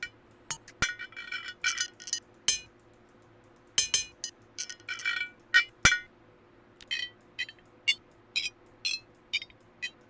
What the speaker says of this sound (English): it kind of emulates somebody kind of hitting in the side of a glass bottle